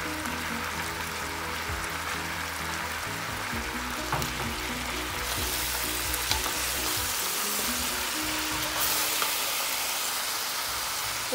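Chicken sizzling and frying steadily in a pan with spices added, a continuous close crackling hiss with occasional stirring scrapes and no talk.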